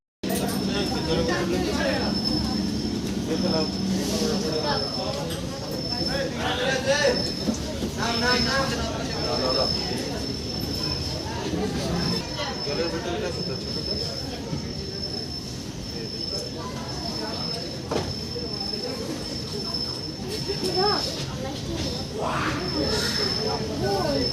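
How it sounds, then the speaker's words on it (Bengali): A train runs from Kharagpur station toward Digha, its rumbling wheels and rattling carriages continuous beneath frequent nearby voices talking, with a steady high whine and occasional clatters throughout a long, busy ride. "তো এখানে এখন আমরা ট্রেন ধরবো, ট্রেন ধরে তারপর দীঘা যাব।"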